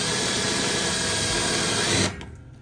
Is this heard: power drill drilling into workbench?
yes